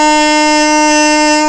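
Alto saxophone holding a single high C, one steady sustained tone at strong, even volume for about a second and a half, close and alone.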